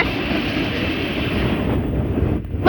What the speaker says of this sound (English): this is a very extremely long train though